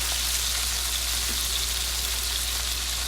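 Lamb loin chops with Greek herbs sizzle steadily in a hot pan, a continuous bright crackling fry with no voices.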